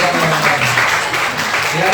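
Congregation at a children's Christmas celebration giving a dense, steady round of applause, loud and close, with voices faintly mixed in.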